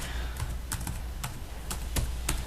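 Typing on a computer keyboard: a run of crisp, close key clicks at an uneven pace, alone over a steady background hiss.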